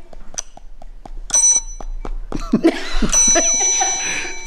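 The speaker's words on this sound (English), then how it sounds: "Is that a desk bell? There's a bell." A small metal desk bell is struck repeatedly in quick, uneven succession, its bright dings ringing close and loud, with light laughter and talk around the strikes.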